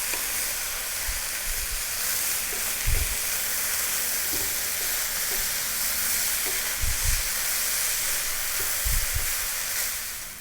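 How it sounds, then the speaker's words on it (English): Rice sizzles and fries on high heat for ginger broccoli fried rice, a constant loud hiss with occasional low thumps and scrapes as it is stirred and kept moving in the pan. "stay on this high heat and we're going to fry this rice for about 5 minutes"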